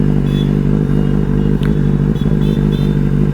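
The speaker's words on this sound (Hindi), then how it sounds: "और अपने इसमें ओरिजिनल एग्जॉस्ट है।" A Benelli 600i motorcycle with its original exhaust idles close by, a loud, steady, deep throb with a faint ticking clatter on top and no voices.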